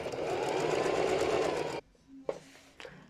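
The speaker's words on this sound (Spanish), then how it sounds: "Así voy avanzando con puntada de zigzag" Sewing machine running steadily on a zigzag stitch along a waistline seam, a dense continuous whir for nearly two seconds before stopping, followed by faint handling clicks.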